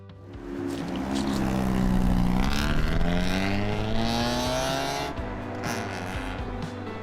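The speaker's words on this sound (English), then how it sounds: "I don't understand kids these days with their loud mufflers on like lawnmower engines." A car with a loud aftermarket muffler, droning like a lawnmower engine, drives past near an RV site, its rough engine note swelling as it approaches and then fading, heard alone without talk.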